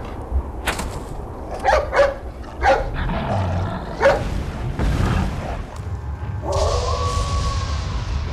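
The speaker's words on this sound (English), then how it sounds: "dog." Dog barking in the Resident Evil 4 video game, a few sharp barks and yelps spread through the clip over a noisy in-game background, fairly close and moderately loud.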